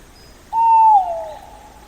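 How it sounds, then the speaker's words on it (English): An owl gives a single clear hoot, loud and close, that starts abruptly and then fades into a gently falling tail against a quiet background. "owl,"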